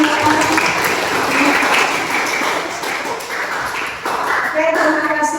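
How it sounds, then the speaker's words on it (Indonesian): Audience applause after a discussion session in an Islamic studies (Akidah Akhlak) teacher-training class, steady dense clapping filling the room, with faint voices mixed in. "Tepuk tangan untuk kita semua."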